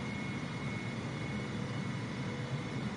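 C-17 Globemaster jet engines run in reverse thrust in Flight Simulator 2020. The result is a steady, dense roar with a faint high whine running through it, unchanging throughout.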